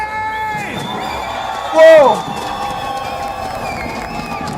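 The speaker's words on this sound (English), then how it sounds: "the Enigma Galaxy crowd, they've been loud" Esports watch party crowd in Paris for PUBG Mobile World Cup grand finals, a loud continuous roar of cheering and shouting with a sharp swell of whoops midway, a voice exclaiming over it.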